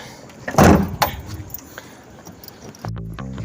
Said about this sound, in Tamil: இப்போ டிக்கே க்ளோஸ் பண்ணிடலாம்